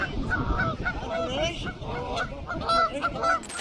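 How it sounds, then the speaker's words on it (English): Geese at a zoo honk furiously in a dense, overlapping chorus of harsh calls, loud and close, with general background noise mixed in. "This set off a chain reaction of furious honking from the remaining goose"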